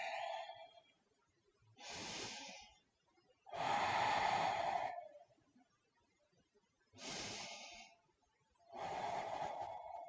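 Deep yoga breathing during a practice, with slow, audible inhales and exhales alternating in long breaths, close and fairly quiet, separated by brief silences.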